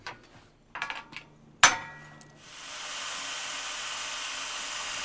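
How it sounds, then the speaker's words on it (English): Drilling a 3/16 inch hole at an angle through a PVC railing snap pocket and shear block: a few handling taps and a sharp knock, then a power drill spins up to a steady whine that holds to the end. "Drill a 3/16 inch hole at an angle through the snap pocket and the shear block"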